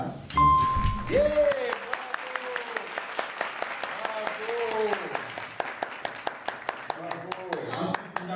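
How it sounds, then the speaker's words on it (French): Applause for tonton Alain at a casual tacos tasting in Dakar: scattered, fairly sharp claps repeat steadily through the clip beneath and between talking voices. "on applaudit pour tonton Alain."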